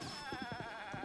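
A goat in Zelda: Breath of the Wild bleats in a short, wavering, quavering call, close and clear with no talk over it.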